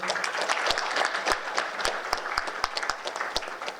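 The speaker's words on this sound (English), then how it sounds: "Let's keep applause" An audience at a Sri Lankan community chapter event in Kuwait keeps applauding, a lively, continuous clatter of many hands punctuated by crisp, nearby individual claps at an irregular rhythm.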